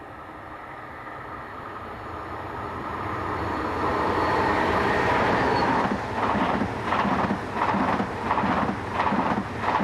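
An ICE train passes on a German railway line with a 160 km/h line speed, heading north: a loud, steady roar builds over several seconds, then rhythmic clacking bursts of the carriages pass close by.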